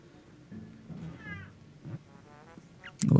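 A cat meows loudly indoors in several separate, drawn-out calls, close to the microphone, with a sharp louder burst at the end.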